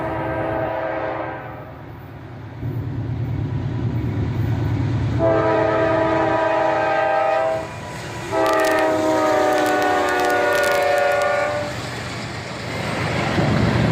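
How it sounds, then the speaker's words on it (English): A CSX freight train rumbles past while its horn sounds in three long chords separated by short pauses, loud and close. "Now we're back over at Union Road to catch a CSX train."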